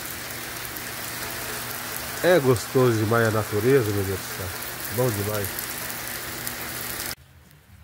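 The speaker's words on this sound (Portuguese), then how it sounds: "Tá chovendo." Steady outdoor rain hisses across a garden plot, with someone speaking over it partway through before the sound cuts out near the end.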